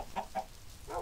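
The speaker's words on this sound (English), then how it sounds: "I was just working here when suddenly I heard a chicken." Chicken clucking in Minecraft, a few short soft clucks close by, quiet and spaced out with no talking.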